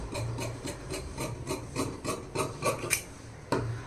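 Blouse fabric being cut along a marked line, a steady series of rhythmic rasping snips, close and distinct, about a dozen strokes with a sharper one near the end.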